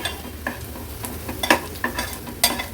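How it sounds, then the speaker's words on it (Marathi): A ground masala paste sautés in oil for an Agri-Koli style oyster (kalva) curry, with a low continuous sizzle under periodic scraping and tapping stirs close by, with no talking. "हे बघा, मिनिटभरासाठी वाटण छान तेलावर परतून घेतलं आहे।"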